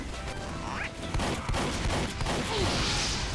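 Rapid video game gunfire from a shotgun-style weapon in a dungeon crawler, dense overlapping bangs and impacts in a loud, busy mix with scattered bursts throughout.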